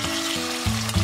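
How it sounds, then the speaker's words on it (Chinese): Chunks of pork belly plunged into hot oil for deep-frying, a loud steady sizzle and bubbling that surges twice as more meat hits the pan, with no voices. "下锅炸。"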